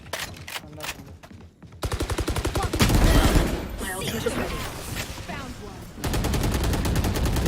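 An AK rifle fires in Valorant in rapid automatic bursts, loud and close, with rattling sequences separated by short pauses and heavy overlapping game effects; voices speak over the gunfire.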